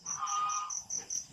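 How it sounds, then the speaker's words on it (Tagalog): Geese at a rural provincial home in Batangas, Philippines, honk in a series of about six short, evenly spaced calls, moderately distant and fairly faint, over a quiet background. "Ingay ng gansa."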